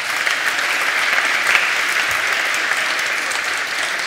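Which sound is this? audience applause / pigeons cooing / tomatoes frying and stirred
audience applause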